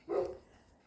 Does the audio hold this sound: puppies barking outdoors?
yes